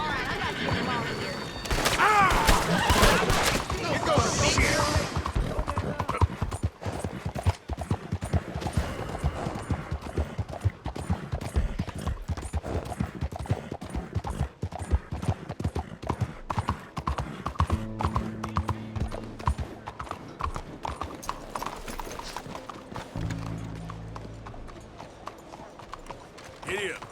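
Horse hooves trotting in the Red Dead Redemption 2 video game, a steady close clip-clop rhythm running throughout, with game voices speaking over it.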